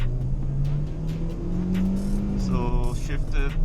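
A 2021 Kia Stonic 1.4L EX automatic accelerates from inside the cabin, its engine drone rising steadily and then dropping sharply at a gear change, under muffled road rumble.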